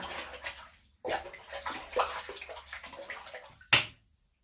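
Water pours and splashes into a bathtub being filled for a bubble bath, heard in close, uneven bursts with brief gaps, ending in a sharp splash before going quiet.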